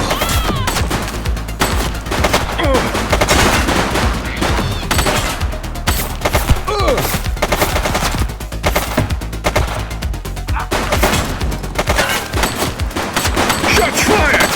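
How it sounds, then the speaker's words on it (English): Rapid bursts of gunfire from The Precinct police game, loud and repeated in dense volleys that continue almost nonstop, with no talk over them. "Shots fired!"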